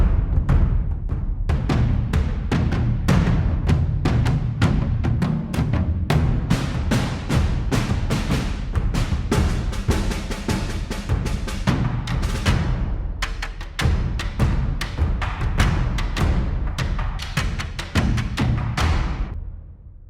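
Epic orchestral percussion from the Heaviosity Damage 2 sample library pounds out dense, continuous heavy hits and booming drums for twenty seconds, loud and without any voices.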